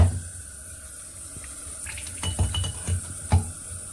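Water runs from the tap of a reverse osmosis water purifier in a steady faint stream, with a few light clinks and knocks of glassware or metal near the end.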